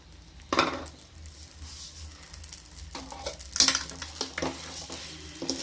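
Sugar being stirred into tender coconut halwa in a cooking pan, with soft sizzling under several scraping spoon strokes and light clinks against the pan, close by and fairly quiet.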